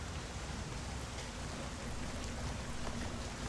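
Steady rain in the Portal: Revolution video game, a dense, even hiss of falling drops with a faint low hum beneath, continuous throughout.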